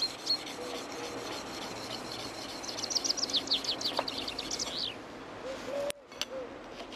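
Drawknife blade honed on an 8000-grit sharpening stone, a steady close rasping rub with rhythmic strokes in the middle and a brief knock near the end.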